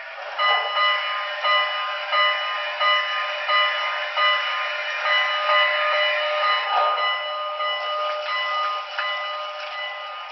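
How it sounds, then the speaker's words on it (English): A Broadway Limited Norfolk & Western 2-8-8-2 Y6b model steam locomotive rings its electronic bell, a steady, repeating ding with regular strokes, close and fairly loud with no talk. "that's a pretty cool bell"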